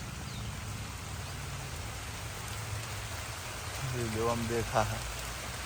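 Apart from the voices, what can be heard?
rain falling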